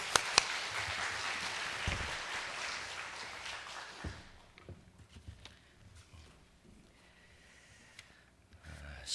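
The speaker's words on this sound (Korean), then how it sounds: "목사님 나오실 때 우리 힘찬 박수로 환영하겠습니다" Church congregation applauding to welcome the pastor to the pulpit, with a dense burst of clapping over the first few seconds fading to scattered claps and faint room noise.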